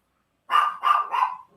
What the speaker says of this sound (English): Got my little dog over there going crazy in the window.